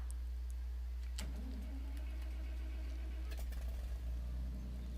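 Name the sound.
old tractor engine starting in Farming Simulator 2013 video game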